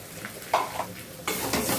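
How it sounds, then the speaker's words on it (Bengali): Grated coconut fries in a pan with a soft sizzle, broken by a few scraping stirs and a brighter burst of frying toward the end, quiet and close. "নারকেলটা একটু ভেজে নেব"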